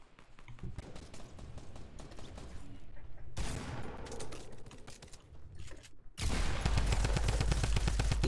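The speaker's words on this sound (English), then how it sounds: "Well, I'm shooting him now." Rapid gunfire from SMG and shotgun weapons in a Fortnite match, with dense bursts through most of the clip and a loud sustained volley at the end, heard alone without talk.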